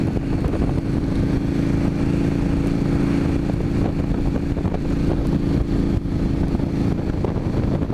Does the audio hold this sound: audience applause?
no